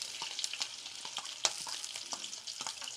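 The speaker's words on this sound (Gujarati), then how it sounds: "તેમાં રાઈ તતડે ત્યારબાદ તેમાં આપણે ઝીણી સમારેલ ડુંગળી નાખીશું" Mustard seeds and finely chopped onions fry in hot oil in a pan, a steady close sizzle dotted with sharp crackling pops, with no voices.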